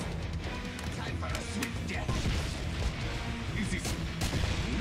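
Grenades blasting in the shooter game Killing Floor 2 amid a dense, loud wall of booms and crackling gunfire, with a voice talking over the continuous chaos.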